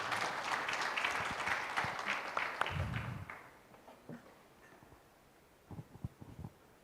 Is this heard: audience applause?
yes